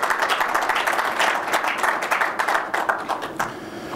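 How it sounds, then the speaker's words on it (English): Audience applause at a Roush Fenway Racing media tour press conference, steady crowd clapping with dense, sustained hand claps throughout, fairly close and loud, with no talk over it. "Appreciate you guys clapping"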